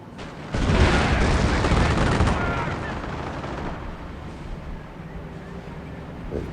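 Air bombardment in the Company of Heroes Mobile war game, a sudden loud roar of blasts and rumbling explosions that swells at once and then slowly fades into a lower battle rumble, with a voice briefly under it.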